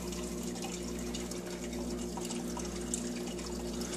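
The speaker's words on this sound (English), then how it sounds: "there's a lot of bubbles and water movement from this" An aquarium air stone in a fish tank aquaponics system bubbles constantly, a soft, even fizz of small bursting bubbles and stirred water over a low steady pump hum, close and quiet throughout.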